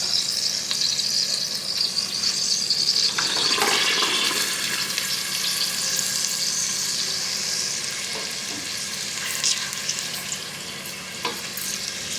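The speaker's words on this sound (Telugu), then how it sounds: "ఉల్లిపాయలు ఇలా వేసి అరగొట్టాను ఎలక్ట్రికల్ కుక్కర్" Onions sizzle in oil inside an electric cooker, a steady close crackle and hiss with a few brief stirring scrapes and clinks along the way.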